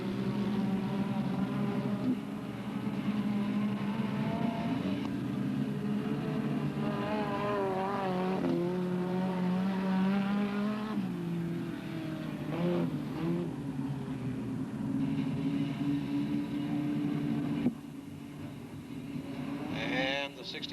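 Race cars at Delta Speedway circling the track, a continuous loud engine drone rising and falling in pitch as the field comes around, with no break in the noise and a shift in tone near the end.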